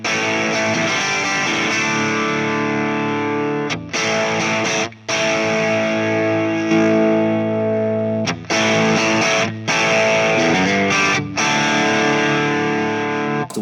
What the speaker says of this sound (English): I'm switching over to the dirty channel